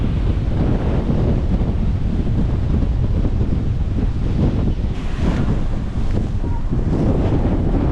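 Loud, roaring Hurricane Helene wind in Key West, Florida buffets the microphone continuously, a dense blustery rush with surging gusts and no voices.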